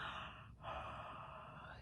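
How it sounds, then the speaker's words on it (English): A person yawns during a children's storytime song, two breathy exhalations with a brief pause between them, close and fairly quiet, with no other sound around them. "Yawn your sleepies out"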